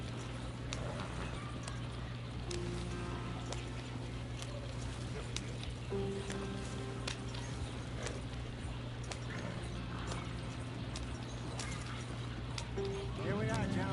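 A horse clip-clops steadily along under a continuous music and ambience bed while riding in the Red Dead Redemption 2 video game, with hoofbeats moderately near throughout and brief game voices.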